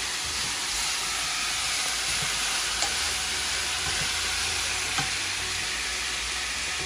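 Spiced food seasoned with black pepper and cumin fries in a pan for tacos rancheros, a loud, steady, dense sizzle with a couple of faint utensil taps from stirring.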